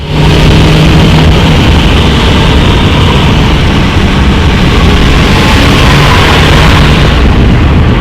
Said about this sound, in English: It's got a lovely little bit of supercharger wine, about 3k